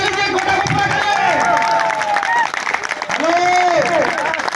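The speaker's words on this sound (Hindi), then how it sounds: "तो जोड़ा ताली बजा लीजिए" An audience at a motivational seminar claps in a dense, continuous patter, while voices talk loudly over the applause throughout.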